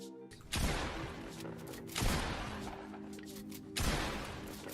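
Three loud shotgun blasts ring out at even intervals, each a sharp crack followed by a sustained rumbling tail, fired at moving targets during a Fortnite aim and edit course, with game ambience in between.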